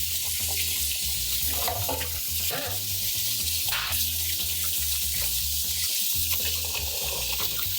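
Tap water runs into a kitchen sink to soak fruit such as lemons, limes and blueberries with baking soda, a steady close splashing and hiss with low gurgling underneath and occasional clinks.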